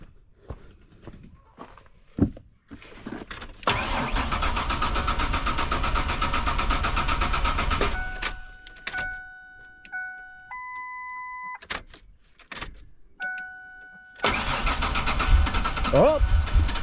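A red Ford Explorer's engine cranks, then catches and runs loudly for several seconds. Electronic chime tones sound during pauses, the engine resumes near the end, and people talk briefly before it starts.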